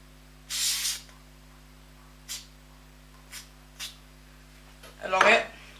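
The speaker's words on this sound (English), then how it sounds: "all you want to do is just put a few sprays." Short bursts of lubricant sprayed from an aerosol can onto an airsoft gas blowback pistol: one longer hiss followed by three brief puffs, then a rustling handling sound, all close and fairly loud.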